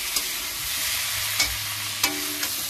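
Potato and cauliflower pieces sautéing in a pan for a tilapia fish curry, a steady close sizzle with a few quick scrapes and taps of a spatula, no voices.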